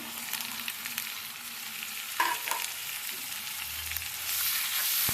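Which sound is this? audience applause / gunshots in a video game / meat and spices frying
meat and spices frying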